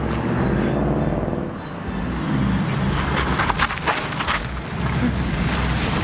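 A Jaguar car driving, heard as a steady close engine and road rumble with wind noise, continuous and fairly loud, with some brief rattles midway.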